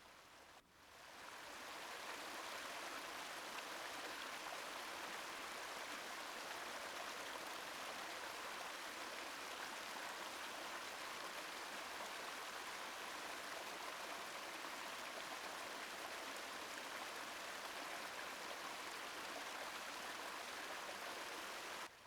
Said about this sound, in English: The water finds its way around the rocks.